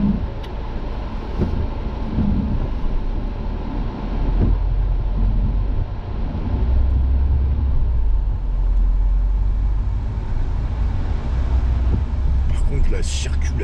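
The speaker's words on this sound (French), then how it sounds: "Circulation, waouh!" Street traffic rolls past continuously, a loud broad rumble of vehicles with rising and falling swells and a brief higher hiss near the end.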